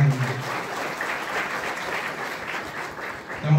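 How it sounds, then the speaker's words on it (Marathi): Loud, steady applause from a political rally audience fills the clip, a dense clapping crowd sustained throughout at close range, with a brief voice at the very start and end. "जोरदार टाळ्या दिल्या"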